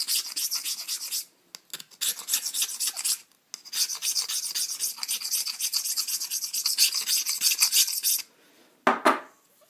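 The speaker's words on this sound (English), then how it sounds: "So you can shave most of it off with your knife." A knife shaving leftover material off a homemade blow gun, heard as close, steady rasping scrapes in repeated strokes, broken by a few short pauses.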